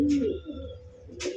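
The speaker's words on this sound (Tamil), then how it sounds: "3 ஹவர் பறந்த புறாக்கள்." Pet pigeons cooing close by, a low throaty coo with soft rolling tones and a brief rustle at the start and end, no talk.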